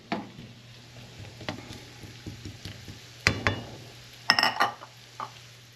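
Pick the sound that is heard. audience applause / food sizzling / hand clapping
food sizzling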